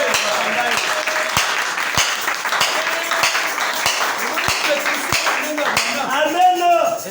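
An audience claps and applauds through a church service, with scattered sharp claps in a loose rhythm beneath ongoing singing or speech and a continuous wash of crowd sound.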